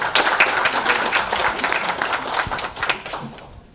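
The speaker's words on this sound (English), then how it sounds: "let's have another round of applause for our panelists" Audience at a Middle East peace panel debate applauds the panelists, a dense burst of clapping that stays steady and loud for a few seconds before thinning out toward the end.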